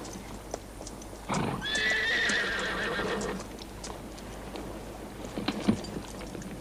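A horse gives a loud, drawn-out whinny lasting about two seconds, followed by scattered clip-clopping hooves at close range, with no one talking.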